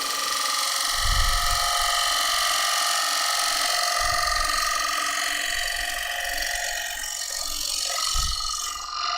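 A steady, dense scraping hiss of a woodturning chisel against wood spinning on a lathe, continuous throughout with low rumbling bursts underneath.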